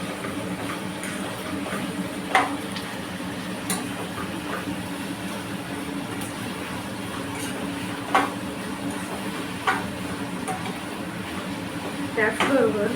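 Sliced onions fry in oil on medium heat for chicken biryani, a steady, close sizzling hiss with small pops and crackles, under occasional talk.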